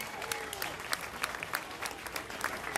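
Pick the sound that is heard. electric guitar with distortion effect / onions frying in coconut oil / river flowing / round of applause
round of applause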